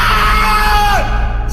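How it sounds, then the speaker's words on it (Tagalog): A man screams as a horror story sound effect, one loud, sustained cry that slides downward and breaks off abruptly. "nakarinig kami ng sigaw ng lalaki"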